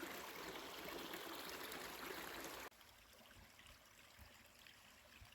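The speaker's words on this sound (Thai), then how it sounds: "น้ำไหล น้ำไหลจากธรรมชาติ" Stream water rushes in a continuous, soft wash, fuller at first, then abruptly quieter and more distant for the second half.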